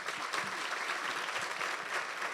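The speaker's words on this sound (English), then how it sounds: "let's give Brooke a round of applause" A small group applauds steadily, the clapping even and moderately loud throughout with no voices heard.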